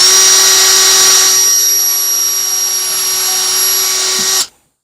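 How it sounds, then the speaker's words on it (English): A power drill whines steadily at high pitch while boring holes in the side of a round whiskey smoker, loud and close for about four seconds before stopping abruptly. "this is drilling the holes in the side."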